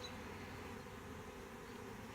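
A swarm of honeybees gives off a faint, steady, continuous buzz, distant and even throughout with no talking.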